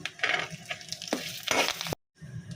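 Mustard seeds and cumin fry in hot oil for a buttermilk curry tempering, crackling and sizzling close by with stirring scrapes, then cutting out abruptly before resuming briefly.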